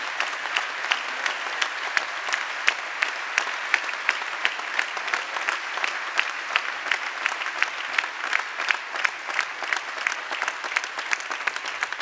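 Audience applause at a general assembly of the Confindustria Veneto Est business association, dense and steady clapping sustained throughout at moderate level, with no voices over it.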